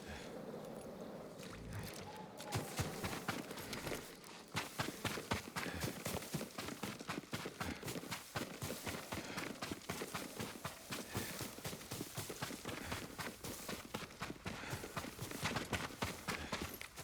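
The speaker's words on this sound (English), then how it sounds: "Yuriko's horse. She can't be far." Horse hooves clip-clop in a steady, fairly loud rhythm through most of Ghost of Tsushima's game audio, starting after a quieter opening and continuing over ambient background sound.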